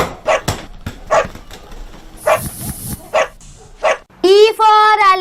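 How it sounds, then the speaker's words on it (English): A dog barks in a series of short, sharp yaps spaced about a second apart, within a children's alphabet rhyme, followed by a sustained sung or tonal note at the end. "D for dog."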